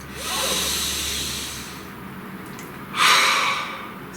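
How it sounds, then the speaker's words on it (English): A slow, breathy inhale and exhale of a deep breath during a calm guided spell reading, audible alone, with a stronger, louder breath surging near the end. "Please take a nice deep breath."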